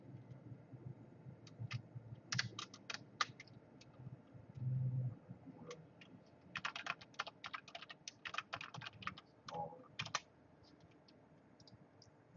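Quick bursts of keystrokes on a computer keyboard while typing code for a game, clattering in irregular clusters with short pauses between them, fairly close and moderately loud, with no talking.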